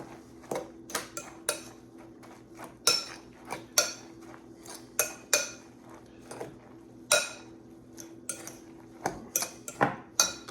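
Potato pancake batter seasoned with black pepper is stirred in a bowl, giving repeated sharp utensil clinks and scrapes in an uneven rhythm, close and fairly quiet over a faint steady hum.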